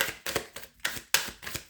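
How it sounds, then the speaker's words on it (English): Tarot cards shuffled by hand in short crisp bursts of riffling and slapping, about five quick flurries in a row, close and fairly quiet with no talking. "let's keep going with my shuffle here"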